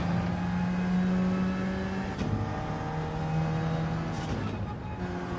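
An Alfa Romeo 4C engine drones steadily in Gran Turismo 7, holding a sustained, loud tone that dips briefly twice as the car shifts or lifts off, then picks back up.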